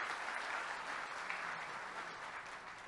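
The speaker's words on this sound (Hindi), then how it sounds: "तो एक बार फिर अगर तालियां हो जाएं" Applause from the audience at an Indian Republic Day poetry gathering, a dense, steady wash of many hands clapping, fairly distant and even in level from start to finish.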